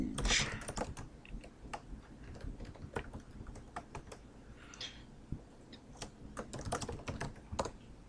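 Rapid, uneven clatter of keys on a computer keyboard while C++ code is typed, steady clicks and taps running through the whole stretch, close and moderately loud with no talking.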